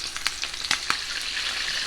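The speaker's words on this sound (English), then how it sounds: "I am just going to cook 3 of these drumsticks in a pan at one time" Hot oil sizzles steadily with a bright crackling hiss as three chicken drumsticks fry in a pan, punctuated by a few sharp pops, close and fairly quiet, with no voices.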